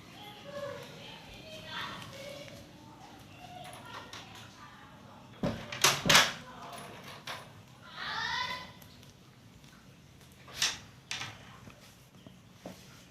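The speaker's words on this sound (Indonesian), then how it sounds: "Sebelumnya saya tutup pintu terlebih dahulu ya." A door being shut in a small clinic counselling room, with a loud double knock-and-thud burst near the middle followed by a softer bump, set amid quiet room tone and brief talk.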